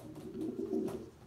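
A pure Janssen racing pigeon from the Janssen brothers of Arendonk coos in a loft, one low rolling call lasting about a second, close and alone.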